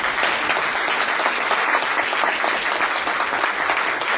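An audience applauds Community Resource Credit Union at an event, a dense, continuous wash of many hands clapping at steady loudness for several seconds.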